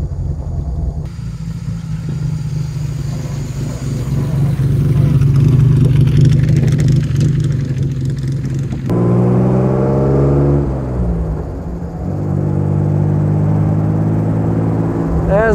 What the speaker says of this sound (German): Also der Motor läuft auf jeden Fall gut.